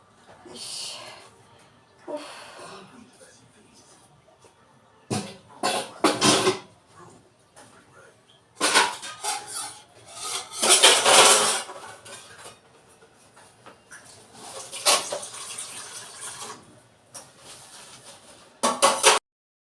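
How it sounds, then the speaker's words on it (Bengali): A kadai being scrubbed clean during dishwashing, giving intermittent bursts of scraping and clattering metal that come and go in loud and quiet stretches, with some talking. "কি পরিশ্রম হলো গো, এই কড়াইটা মাজতে গিয়ে এত পরিশ্রম হলো।"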